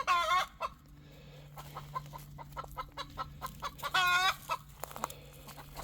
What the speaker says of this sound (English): Cock-a-doodle-doo. Got a couple of them up there in the nesting box.